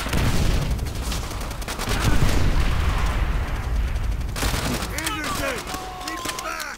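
Call of Duty World at War combat sounds: rapid gunfire bursts and a grenade blast close by, loud and chaotic, with a voice talking excitedly over the action.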